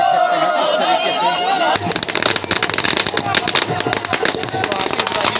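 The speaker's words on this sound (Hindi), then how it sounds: "तो आतिशबाजी भी होती है साथ में बरात के।" Firecrackers and fireworks crackle and pop in dense, rapid bursts during a Pahadi wedding procession, starting abruptly partway through and continuing loud and close over crowd noise and voices.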